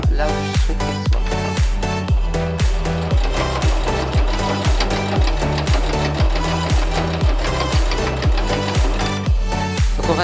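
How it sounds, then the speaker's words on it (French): A sewing machine stitches patchwork squares cut from fabric scraps, running in a steady fast rhythm of sharp repeated needle strokes, loud and close with no talking. "venir coudre vraiment au bord, en prenant bien soin que la couture soit bien là où je souhaite qu'elle soit"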